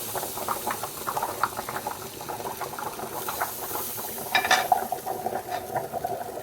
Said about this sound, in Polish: Ziemniaczki się gotują.